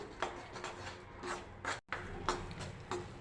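Faint, rhythmic scraping of a spoon stirring flour as it roasts in a pan for sukhdi, soft rasping strokes repeating close by in a quiet kitchen.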